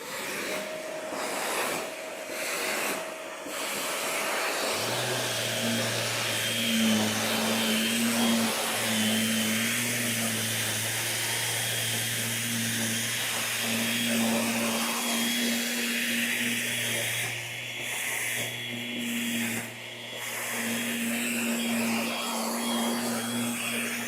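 A Milwaukee M18 FUEL dust extractor vacuum runs continuously with a broad steady roar, and a low motor hum joins in partway through; several brief knocks punctuate it.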